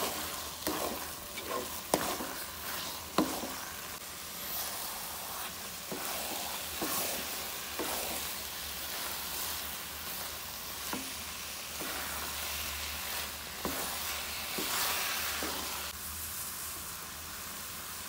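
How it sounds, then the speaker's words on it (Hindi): Khoya and grated carrots for gajar halwa stir-fried in a pan, with a steady sizzle broken by repeated scraping strokes of the spoon, close and moderately loud, with no talking. "खोया शामिल करके इसको अच्छी तरह से भून लेना है।"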